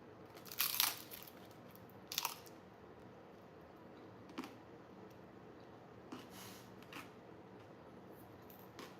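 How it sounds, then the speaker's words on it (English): Loud crisp crunches from biting into an oven-toasted tortilla tostada, two sharp bites close up followed by a few softer chewing crackles, with no talking. "That crunch sounds satisfying and looks really yummy."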